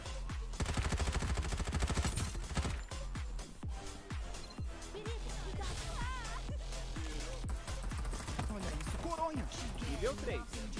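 Rapid bursts of gunfire from the video game Farlight 84, sharp repeated shots at first and then continuing more sparsely with game effects, while a player talks over them.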